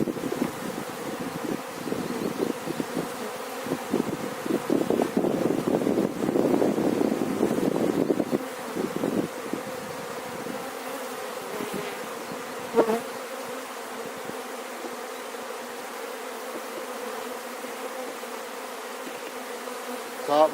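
Honeybees from an opened beehive buzz steadily and close by, a dense drone that swells loudly early on, then settles into a constant hum with some wind rumble against the microphone.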